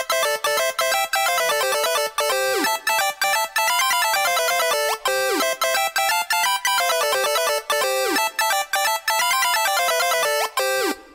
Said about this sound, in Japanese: 実はメインメロディーとハモのメロディーはスケア波を鳴らしてるだけなんです